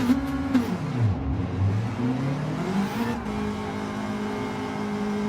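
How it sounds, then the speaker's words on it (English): A 2016 Subaru STI WRX engine in a racing game at Spa, revving and shifting with pitch rising and falling, a steady close engine drone throughout. "So it's the 2016 STI WRX we are in tonight, the Subaru."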